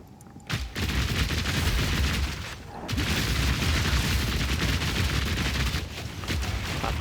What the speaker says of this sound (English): Pop a couple of grenades in there